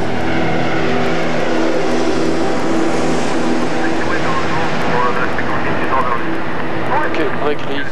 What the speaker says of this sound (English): As soon as the A380 touches down, the crew hurry under the aircraft